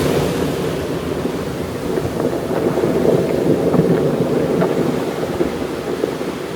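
Waves wash steadily onto a stony shore in a continuous rushing wash, with some wind buffeting the microphone and no voices.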